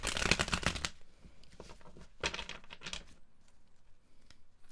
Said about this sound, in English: I was being told to just shuffle more